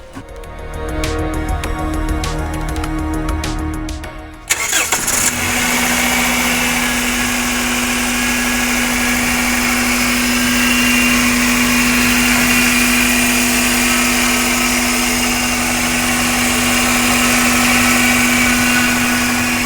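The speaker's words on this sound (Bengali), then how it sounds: "তাহলে আমরা একটু গাড়ির ইঞ্জিনের একটু সাউন্ডটা শুনে দিই" A used Toyota Probox car is started after a few seconds of other noise, then its engine runs at a steady, close idle hum with light vibration for the rest of the stretch.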